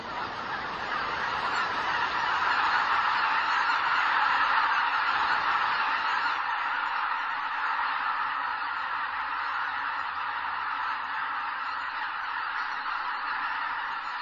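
A flock of cranes wintering in the Korean DMZ calls in a dense, continuous chorus of honking cries, loud and close for the whole stretch, with no talking.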